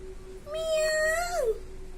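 A child imitates a cat with a single drawn-out meow that rises, holds and then falls away at the end, close and clear with no talking.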